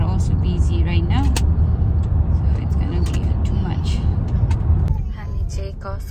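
Heavy road traffic near a Costco on a busy holiday weekend, a steady close rumble of cars and buses with brief brake hisses, under ongoing voices.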